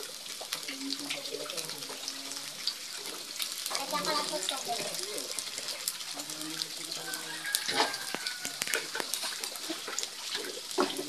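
Onion and garlic sautéing in a pan for Filipino mung bean stew with anchovies, a soft steady sizzle with stirring scrapes and clinks, while someone talks over it.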